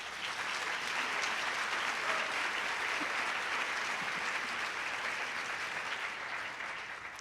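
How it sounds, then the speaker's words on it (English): Conference audience at a community funding event giving a steady round of applause, an even wash of many hands clapping that sounds somewhat distant and soft, holding for about seven seconds before easing slightly. "oh yes, big round of applause."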